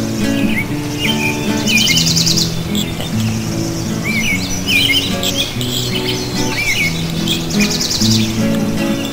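Many birds chirp and sing in a village, bright overlapping tweets and trills close by, continuous over a steady background with tonal hum, no talking.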